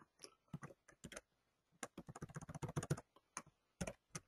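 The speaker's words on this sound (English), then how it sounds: "If I could just type." Keys clack on a computer keyboard in uneven runs, with a few scattered taps, then a dense flurry, then a pause and a last short burst. The clicks are close but quiet, and no one speaks.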